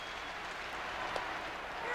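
Baseball stadium crowd at a 1996 Braves home game against the Expos: a steady, distant wash of cheering and clapping, faint and continuous, with a brief tonal blip that may be an air horn.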